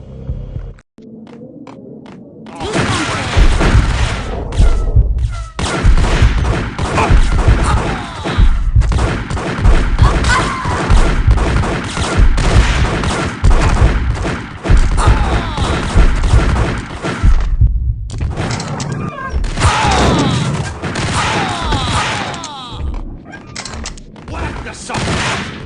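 A gunfight in Max Payne: a sustained barrage of rapid gunfire and heavy bursts runs loud and nearly continuous for over twenty seconds, with brief lulls and some speech mixed in.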